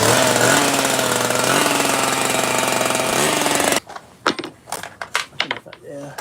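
A Stihl TS410 petrol cut-off saw with a freshly changed carburettor runs loud and close with a steady, rattling two-stroke roar, then cuts off abruptly, leaving scattered knocks and voices talking.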